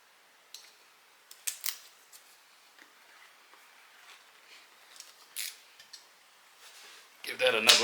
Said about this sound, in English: Just going to go ahead and trim it out.